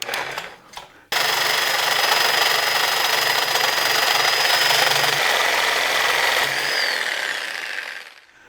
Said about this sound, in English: And I'm just sawing down through there.